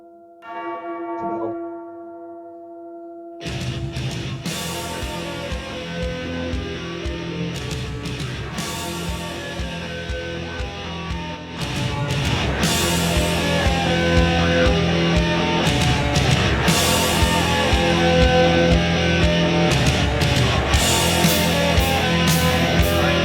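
Church bell tolling slowly and alone, opening a song, then heavy distorted guitars and drums crash in and build louder.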